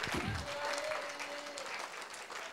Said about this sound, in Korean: 박수를 돌려드립시다.